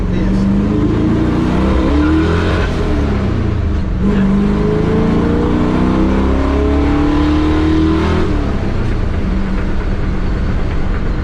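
1966 Chevy C10 pickup with a PerTronix 510 ignition box accelerating hard, loud engine drone rising through gears in long sweeping pulls, close and continuous.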